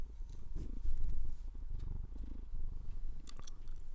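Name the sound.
cat purring near microphone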